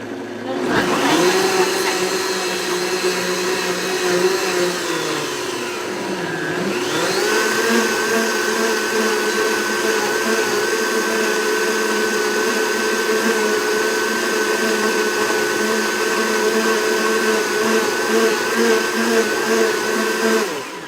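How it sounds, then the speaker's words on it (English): A loud blender mixing gluten-free crepe batter, whirring continuously, its motor pitch dipping briefly then rising and holding steady for the rest of the run. "let's go ahead and throw it on our blender. And it'll get loud for a second."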